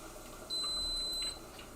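A rice cooker gives a single sustained electronic beep for just under a second against a quiet kitchen background.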